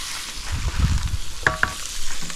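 Fish sizzles steadily in a pan of oil outdoors on an Andaman island, a close, continuous frying hiss with a few sharper spits and a faint knock of a utensil.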